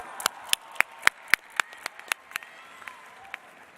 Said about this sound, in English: Let's give them another applause.